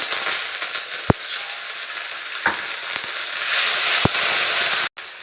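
Onions frying golden in hot oil in a pan for a Bengali puti fish curry, with a steady loud sizzle and several sharp spoon taps against the pan as garlic paste goes in.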